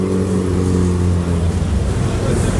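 A historic BMW Alpina 2.8-litre CSL at the Rallye Monte-Carlo Historique runs with a loud, steady engine drone and strong low harmonics, close by and without pause.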